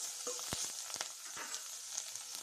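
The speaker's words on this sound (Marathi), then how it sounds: "मी थोडं तेल घेतलेलं आहे आता मी इथे किसलेलं अद्रक टाकत आहे" Grated ginger frying in hot oil in a pan, a faint continuous sizzle broken by a few sharp pops and utensil taps, close by with no talking.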